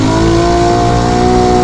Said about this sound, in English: the most important and coolest aspect is not the hybrid or the electric drive. It is our exhaust system